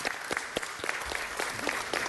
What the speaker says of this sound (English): They deserve a round of applause, please.